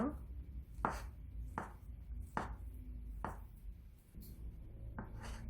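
A knife chops ham or Spam finely on a cutting board, six or seven distinct, evenly spaced thuds against a low, steady background hum.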